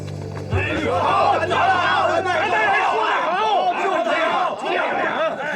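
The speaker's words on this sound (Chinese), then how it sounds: "谁在叫好啊" A dense crowd of many voices shouts and cheers together loudly and continuously, a clamorous babble of approval in a Qing-dynasty historical drama scene.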